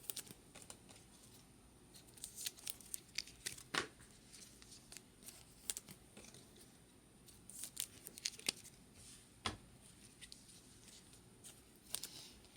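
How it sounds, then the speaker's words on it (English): Bowman Chrome baseball trading cards slide into plastic sleeves, giving soft intermittent rustles and crisp swishes at close range, scattered irregularly over a faint steady background with no talking. "Let's sleeve up some cards."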